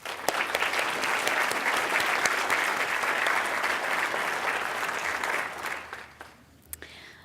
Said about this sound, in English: Let's give a round of applause for Dr. Schleck.